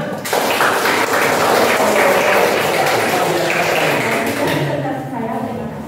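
Applause from a classroom group during a teacher performance assessment, dense clapping that fills the space for several seconds before fading out near the end.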